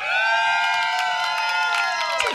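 A lively live audience cheers and whoops continuously, with shouts and whistles layered over a dense, steady roar of crowd noise throughout.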